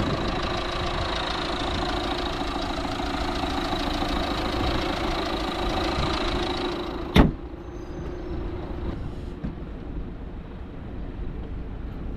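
A 2023 Alfa Romeo Tonale with a 1.6 diesel engine, 129 horsepower, idles steadily with a close, even drone that dips slightly after a brief sharp click midway, then settles into a quieter hum.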